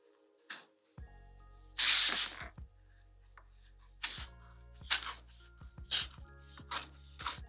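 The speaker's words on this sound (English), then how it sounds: "I love cutting cork." Knife cutting through cork sheet for a zipper overlay, heard as a few short crisp rasping and squishing strokes, one longer hissing slice among them, close and quiet with brief pauses and low hum between.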